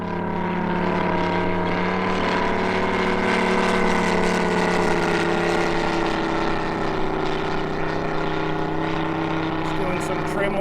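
A TopRc T-28 Trojan full composite RC model airplane, 111-inch span with a UMS 180 engine, flying on its maiden flight: a loud, continuous engine drone with steady harmonic tones, sustained throughout.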